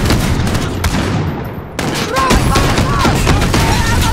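Rapid gunfire rattles through a Call of Duty Modern Warfare firefight on an airfield tarmac, dense loud bursts and single shots close and continuous, with a brief dip before the volleys resume alongside whooshing effects.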